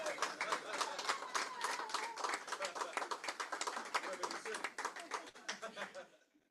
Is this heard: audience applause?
yes